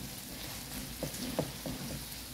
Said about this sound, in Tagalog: Igigisa lang din natin ng mga ilang minuto saka natin ilalagay ang pangalawang gata